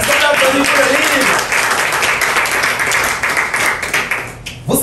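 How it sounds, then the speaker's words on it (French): An audience at an investment company inauguration event applauds a book, a dense wash of clapping that fades slightly toward the end, with voices mixed in. "Est-ce qu'on peut applaudir pour le livre?"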